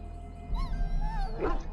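A dog whimpers softly in the fantasy video game Dragon Age Origins, a brief whining cry with yips rising over a low game rumble, moderately close.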